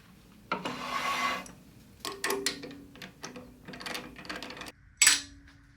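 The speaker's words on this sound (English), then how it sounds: "the next thing I need to do is give it a sand" Sanding a resin shift knob on a lathe, with raspy rubbing passes in irregular bursts, light knocks and a sharp click near the end, close and fairly quiet.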